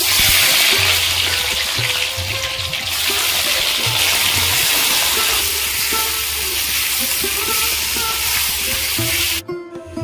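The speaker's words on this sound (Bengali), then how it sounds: "তেল গরম হয়ে গেছে, আলুগুলো ভেজে নেব।" Potatoes frying in hot oil for a home festival feast cooking, a steady loud sizzle with scattered clinks and scraping of a utensil throughout, ending in a brief clatter.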